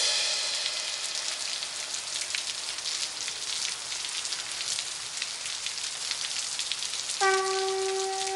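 Steady rain falls in a Hindi TV serial scene, a constant bright hiss of drops, fairly loud and even, with a sustained musical tone entering near the end and no talk.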